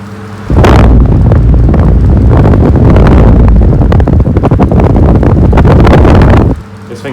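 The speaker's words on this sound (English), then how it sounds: "we shall run the fan. It's still a bit rattly because that thing in the middle of the blades is a bit loose." An electric fan with loose blades starts up loud and close, a heavy roaring whoosh with rattling flutter that holds steady for about six seconds before cutting off.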